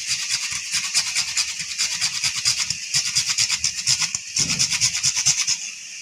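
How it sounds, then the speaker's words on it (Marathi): Nutmeg grated against a small grater over a wet coconut filling for karanji, a steady run of quick, scratchy rasping strokes close by, with a brief pause near the end before the rhythmic grating resumes. "आता मी यात जायफळ किसून घेते"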